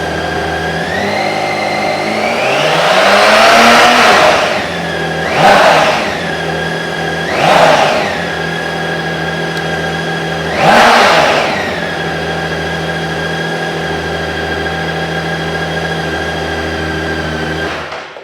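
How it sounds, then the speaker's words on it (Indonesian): An inline six-cylinder motorcycle engine idles with a loud, steady, smooth drone and is revved three or four times, each blip rising and falling quickly, with one longer rev near the start. "kalian harus nyobain dengerin suara 6 silinder segaris"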